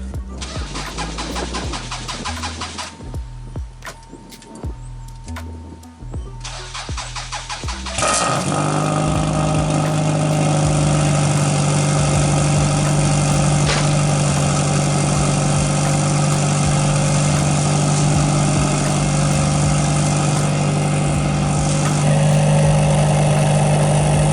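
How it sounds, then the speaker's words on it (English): Cold start of a 1994 Toyota Celica engine after a fuel pump replacement: several seconds of cranking, then the engine catches and settles into a loud, steady, close-up idle that continues to the end. "Let's go ahead and give you guys a cold start."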